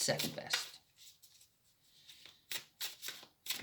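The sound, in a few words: shuffling tarot cards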